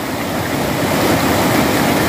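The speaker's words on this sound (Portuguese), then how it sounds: "da sangria do açude Tucunduba, que está levando muita água aqui rumo ao buracão" Heavy water rushes over the spillway of the Tucunduba reservoir in Serrota, a loud, continuous roar of churning flow with no voices.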